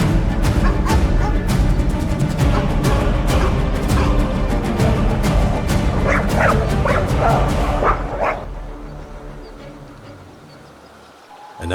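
A wolf gives repeated yips and yelping barks over a dense, loud background for about eight seconds, the calls fading out as the clip quiets toward the end.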